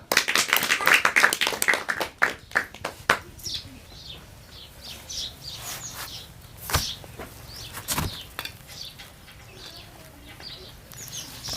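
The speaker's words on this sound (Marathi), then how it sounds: "टाळ्या वाजवा" People clap their hands in a burst of sharp, close claps at the start that thins out into a few scattered claps, with faint bird-like chirps and light background noise after.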